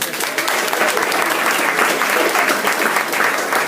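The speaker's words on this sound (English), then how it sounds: "Round of applause for Rob, everyone." An audience at a VR meetup applauds a speaker coming to the stage, a dense, steady burst of many hands clapping that holds loud throughout, with faint crowd murmur underneath.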